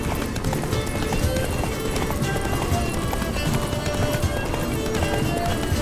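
Horse galloping in The Witcher 3, a rapid continuous clatter of hooves on hard ground, close and steady under faint background noise.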